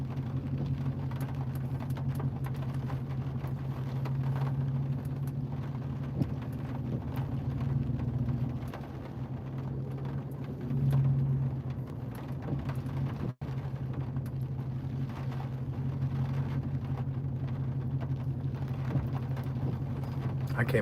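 Heavy rain pours steadily through a thunderstorm, heard as a dense wash of broadband noise over a low rumbling hum, as from inside a moving car, for the whole stretch.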